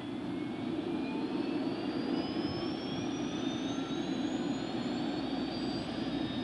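A Bell OH-58 helicopter turbine engine spooling up during start, with a steady loud whine that climbs continuously in pitch over a constant low roar, close by and with no talking.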